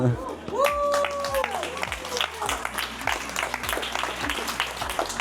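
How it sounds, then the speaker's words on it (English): An audience breaks into steady applause, a dense wash of clapping that continues under a voice and rhythmic background music. "Give a round of applause."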